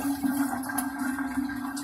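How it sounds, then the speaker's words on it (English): Water poured from a wastebasket into a clogged toilet gushes and churns in the bowl, a loud steady rushing drain noise with a low hum beneath, no talking. "I'm going to dump this right in, and then it's going to, the weight and pressure is going to push it right down."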